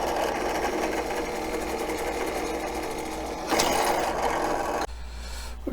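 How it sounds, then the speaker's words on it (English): A drill runs steadily and loudly while boring holes for a PC test bench, a continuous mechanical whir that rises briefly before the motor cuts off near the end. "Okay, all the holes have been drilled."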